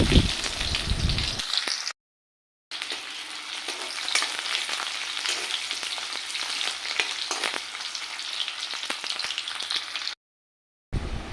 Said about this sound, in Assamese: মিঠাতেলখিনি গৰম হোৱাত এতিয়া মই ইয়াতে পিঁয়াজ দি লৈছোঁ আৰু কাটি থোৱা জলকীয়াখিনিও দি দিছোঁ